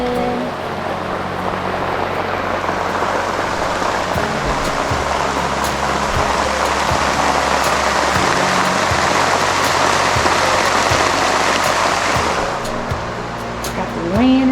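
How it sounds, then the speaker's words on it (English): Steady rain pours outside a secluded cabin with open windows, a dense continuous hiss of drops on surfaces close by, loud and unbroken, with faint low knocks beneath. "Sound of the rain is beautiful."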